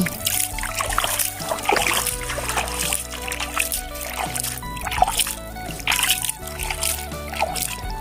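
Water splashes and sloshes repeatedly as shrimp are caught in a net, with irregular close splashes and trickles throughout.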